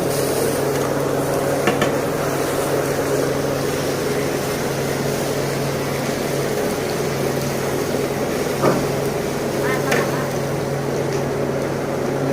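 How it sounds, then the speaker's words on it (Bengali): Meat tipped into frying ginger-garlic paste gives a steady, loud, close sizzle that hisses continuously, with a couple of brief scraping clicks on top. "এখন মাংস ঢেলে দেওয়া হলো।"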